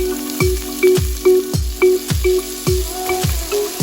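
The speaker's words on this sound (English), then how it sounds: "Add the meat and saute for about 8 to 10 minutes." Beef sautéing in cooking oil in a large soup pot, a steady sizzle broken by regular scraping stir strokes roughly every half second, close and fairly loud.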